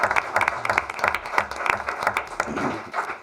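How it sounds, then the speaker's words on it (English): An audience at a town council meeting applauds its volunteer firefighters, brisk uneven clapping close by with sharp individual claps throughout the short burst. "And for that, I want to applaud you right now."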